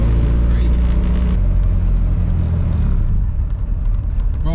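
A Nissan 240SX runs on a test drive, its engine giving a loud, close, low rumble with steady drone inside the car, easing off toward the end, while people talk over it.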